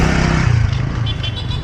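A motorcycle engine idles and rumbles up close, a steady loud low drone with slight rising revs, outdoors near the sea.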